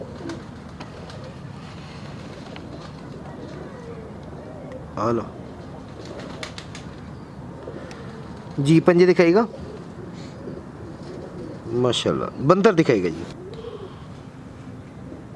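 Colourful pet pigeons coo in a few short throaty bursts near the microphone, under a voice talking steadily throughout.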